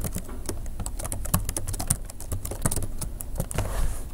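Rapid, uneven keystrokes on a computer keyboard while Java code for a dice poker program is typed, close and steady with no talking.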